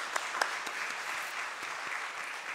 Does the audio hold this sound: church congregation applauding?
yes